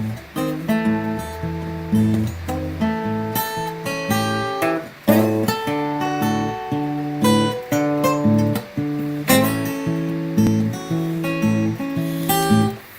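Blues guitar fingerpicked with a steady alternating bass under plucked melody notes, played close and clear for thirteen seconds with no talking.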